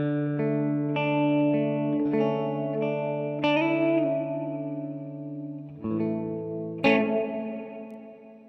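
Notes played through the hall reverb of a Mvave Mini Universe pedal ring out as sustained tones, each new attack blooming into a long, washy tail that overlaps the next, with no talking.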